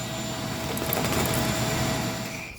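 A vacuum cleaner runs steadily and loudly while sucking lint and dust out of a household dryer vent, a continuous close whine with a faint rattle of debris and no voices.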